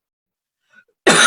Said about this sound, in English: Yes, I still have this cough.